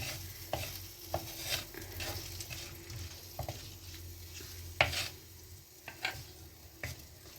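Tomatoes sauté in a pan for a Moroccan tagine, a steady soft sizzle broken by scattered clicks and scrapes of a spoon stirring, close and fairly quiet throughout.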